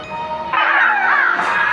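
A bird caws in the Witch Cry video game, a short bright call rising over faint game ambience and lasting about a second.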